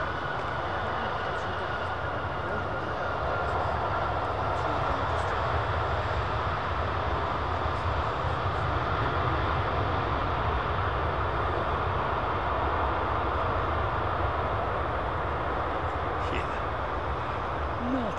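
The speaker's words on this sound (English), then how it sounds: "The CFMs can lay on quite thick with the reversers." Airliner CFM engines roar under thrust reversers during a landing rollout at Miami, a dense, steady broadband rumble held loud and constant throughout with no break.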